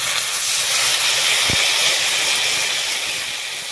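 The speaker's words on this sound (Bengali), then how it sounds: "এবারে জল দিই।" Water poured into a hot pan of fried spice paste with nigella seeds, chilli, turmeric, ginger, mustard and poppy seed, bursting into a loud, close, continuous steam hiss that fades slightly toward the end.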